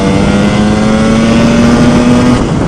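A Lambretta scooter with an MMW KillerCase 260 Simonini engine accelerates hard in first gear. Its loud, close engine note climbs steadily in pitch as it pulls, then eases near the end.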